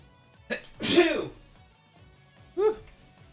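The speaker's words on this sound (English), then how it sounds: "Oh, I have like a sneeze building up." A person sneezes during a casual gaming session, with a short intake followed by a sharp burst and a second smaller sneeze a moment later, close to the microphone.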